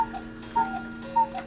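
Several clocks tick in a clock repair shop among wall clocks and cuckoo clocks, a steady tick-tock with two louder clicks roughly 0.6 seconds apart over a continuous soft hum.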